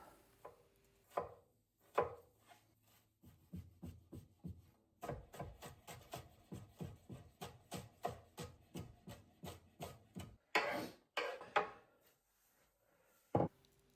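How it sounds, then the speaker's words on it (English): A knife chops onions on a board for a Provençal vegetable bake, giving a long run of close, steady, rhythmic taps. A few sharper louder strikes come near the end and there is no speech. "Now we want to chop the onions."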